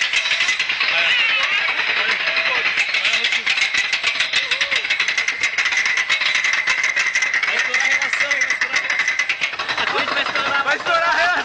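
Roller coaster ride at an amusement park, running with a loud continuous metallic rattling and knocking, steady and close throughout, with voices talking over it.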